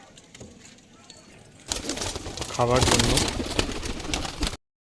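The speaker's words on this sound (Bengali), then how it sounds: "এখানে পাঁচটা পায়রা আছে" Five pigeons in a cage coo in soft, low, rolling bursts close by, mixed with rustling and mingled with someone talking over them.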